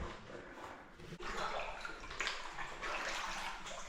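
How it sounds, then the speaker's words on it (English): Gas bubbling and gurgling up from stirred river water inside a flooded mine, a continuous fizzing, watery churn heard close by, with no talk. "that's just the gas is coming from stirring up this water."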